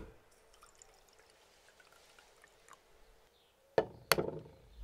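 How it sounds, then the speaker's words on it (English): Warm water is poured over saffron in a quiet kitchen: faint soft room sounds give way to a short, close, bright splash and trickle of pouring water with a small clink near the end. "Then we soak the saffron in warm water."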